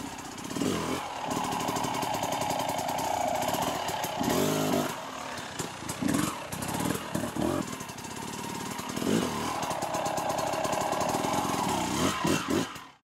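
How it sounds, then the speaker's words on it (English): Motorcycle held in a slow first-gear wheelie on flat ground, its close engine note rising and falling steadily with throttle blips for several seconds before cutting off. "we're going to move on and do a wheelie on the flat, nice and slow, first gear"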